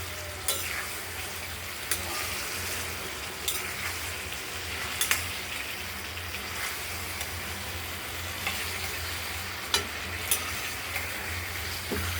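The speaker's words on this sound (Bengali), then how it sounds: "মশলাটা কষানো হচ্ছে, আর ভেজে রাখা মাছগুলো আমরা দিয়ে দিলাম।" Fried prawns tossed into a ground spice paste sizzle steadily in hot oil in a pan while a utensil stirs, with occasional scraping and knocking against the pan over the constant frying hiss.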